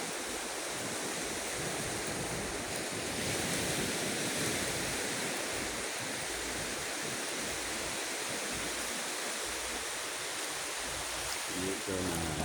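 Steady broadband wash of ocean surf on a morning beach with long sand stretching away, a continuous roaring rush that stays loud and even throughout with no distinct breaks.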